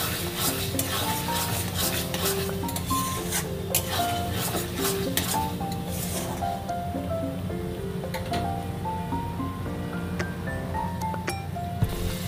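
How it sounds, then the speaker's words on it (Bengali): A spatula stirs a chickpea curry in a pan, with repeated scraping and clinking strokes over a low, continuous sizzle that carries on at an even, moderate level. "আবারও ভালো করে নাড়াচাড়া করে নেব"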